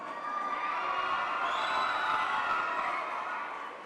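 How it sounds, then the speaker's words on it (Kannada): Audience at a classical dance debut (rangapravesha) cheering and clapping, a dense steady crowd roar with whoops, fairly loud and continuous throughout with no speech over it. "ನಿಮ್ಮ ಪ್ರೀತಿಯನ್ನು ದಯವಿಟ್ಟು ಚಪ್ಪಾಳೆಯ ಮುಖಾಂತರ ತೋರಿಸ್ಬೇಕು"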